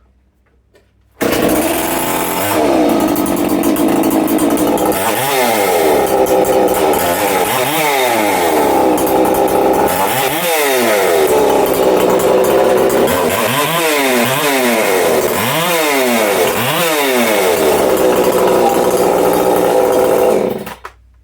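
Husqvarna 262 XP chainsaw running close and loud for about twenty seconds, the engine revving up and down repeatedly in rising and falling sweeps over a steady buzzing idle.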